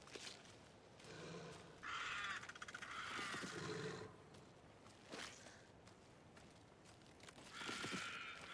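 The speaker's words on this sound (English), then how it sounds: "Alright, I hear crow." In the video game Alan Wake 2, a crow caws in several harsh, loud bursts spaced a few seconds apart, with quieter shuffling sounds between them.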